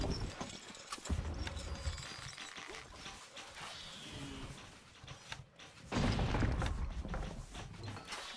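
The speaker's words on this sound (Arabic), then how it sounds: "الحصان سريع." Horse hooves clip-clop in a steady galloping rhythm in the strategy game Stronghold: Crusader, mixed with thuds and other game effects, moderately loud and busy throughout.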